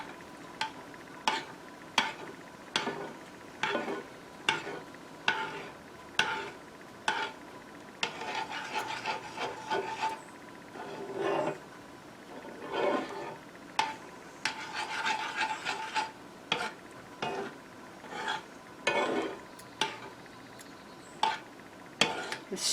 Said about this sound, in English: I'm going to stir in the salt and the pepper that I just added.